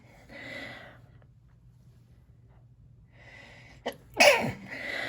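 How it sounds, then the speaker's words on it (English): A single sharp human sneeze bursts out near the end, preceded by a quick sharp inhale and a quiet gap, followed by faint breathing; a brief stretch of muffled speech opens the clip. "I'm going to sneeze."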